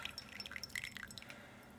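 Water drips and trickles into a catch container beside a home-brewing boiler during an ale brew day: quick, light, irregular plinks up close, fairly faint and alone, fading after about a second.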